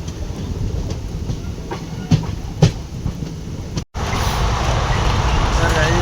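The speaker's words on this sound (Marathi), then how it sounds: "यामध्ये एक ट्रेन" A train rumbling past with steady broadband noise and a few sharp clatters, loud and close, with a brief dropout before the rush continues during rainy weather.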